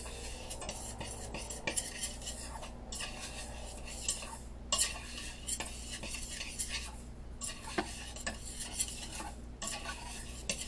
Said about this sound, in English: we're gonna give it a stir